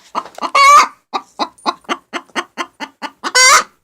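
Hens clucking in a steady rapid series of short close calls, with a couple of louder drawn-out squawks breaking in between.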